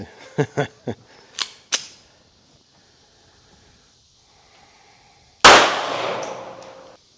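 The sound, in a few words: Hi Point JHP 45 pistol shots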